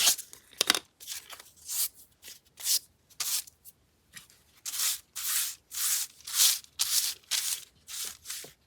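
Sandpaper rubs briskly across a craft piece in a steady series of short, scratchy strokes, close and clear with no talking.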